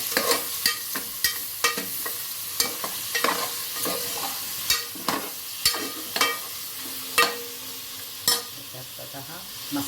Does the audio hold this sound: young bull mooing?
no